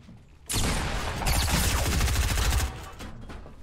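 Another player's gunfire in a building-and-shooting video game, a sustained burst of rapid shots lasting about two seconds, loud and close, that then cuts off.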